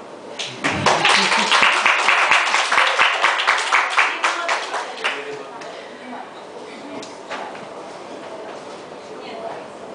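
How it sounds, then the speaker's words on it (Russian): Audience applause after a recitation of Talysh poetry, loud rapid clapping that starts abruptly, peaks for a few seconds, then fades into scattered claps and murmuring room noise. "Я думаю, можно аплодировать."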